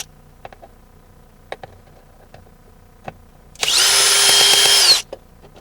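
A power tool runs for about a second and a half to unscrew a bolt, loud and close, after a stretch of quiet with scattered small clicks and taps.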